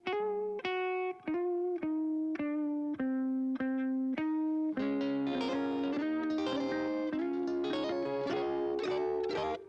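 Distorted electric guitar plays a run of sustained chords, then thickens into a dense, driven texture with layered harmonics, loud and steady throughout.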